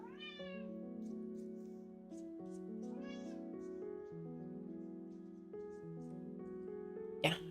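A cat meows several times, each call rising and falling, with one louder cry near the start and a sharp sound at the end, heard faintly over steady background music.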